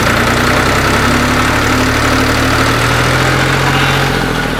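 A TAFE tractor engine runs loud and close throughout, a steady diesel drone that rises slightly as the accelerator is pressed, with no voices over it.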